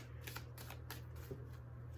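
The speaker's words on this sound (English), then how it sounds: "That's why I shuffle" A deck of tarot cards shuffled by hand, a few quick riffling bursts of crisp papery flutter, close but quiet over a low steady background hum.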